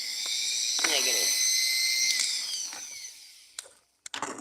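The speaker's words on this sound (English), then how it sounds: "Don't ever buy these cheap electroplated diamond burrs. They suck." A rotary tool grinding stone with a cheap electroplated diamond burr, a high, whining buzz held for a few seconds that winds down, followed by a few sharp clicks and knocks.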